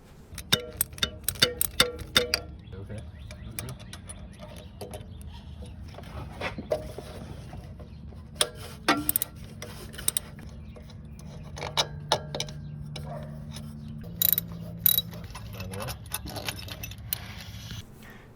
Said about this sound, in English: we do have two bolts that we need to remove